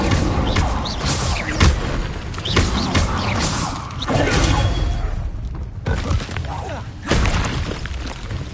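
Incendio fire spell cast repeatedly during combat in Hogwarts Legacy, a dense run of booming, crackling bursts and thuds with mechanical clatter, loud and continuous across the stretch.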